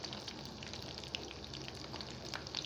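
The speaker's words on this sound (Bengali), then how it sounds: "দেখুন আমি এখন উল্টিয়ে দিব, বাদামি কালার করে আমি ভেজে নিব।" Chicken shami kababs frying in a pan give a soft, steady sizzle and crackle throughout, with small pops breaking through, fairly quiet and close with no talking.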